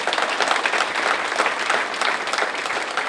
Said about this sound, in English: Let's give him a round of applause for that, the perfect attendance